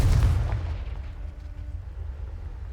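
A Confringo spell blast in the video game Hogwarts Legacy lands as a single deep, booming explosion up front, then rumbles and fades into a low lingering tail.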